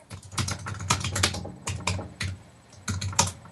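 Rapid typing on a computer keyboard during a Skype call, clattering in quick irregular bursts of keystrokes with brief pauses, close and fairly loud with no talking.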